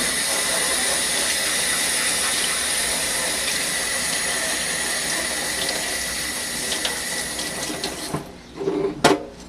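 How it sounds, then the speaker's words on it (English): Water runs steadily from a small hose faucet while surgical instruments are rinsed at a wildlife rehabilitation facility, a constant close hiss that ends in a few clunks and knocks. "turn on the faucet"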